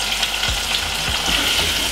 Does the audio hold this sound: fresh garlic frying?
yes